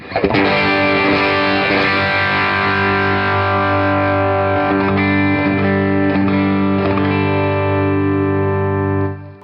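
A sustained electric guitar chord rings out through a compressor pedal, held evenly at a steady level for several seconds before cutting off.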